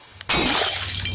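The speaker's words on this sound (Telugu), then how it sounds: "బాబాజీ, మన ఆఫీస్ లో బల్బ్ పేలినట్టుంది" A light bulb bursts in an office with a sudden sharp pop that gives way to a loud, sustained rush of shattering glass noise, heard up close.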